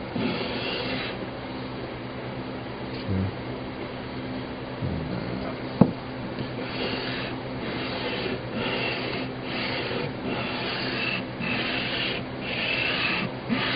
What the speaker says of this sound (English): I've got a great big sanding block clamped down to my bench so I can do this.